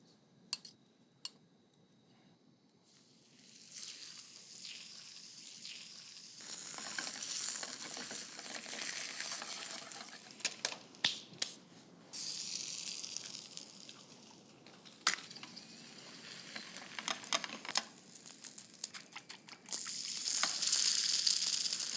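Oil and ghee fry on a hot tawa for Indian tawa cooking: a loud, close, continuous sizzle that surges in waves, with scattered clicks and spatters and a strong flare near the end.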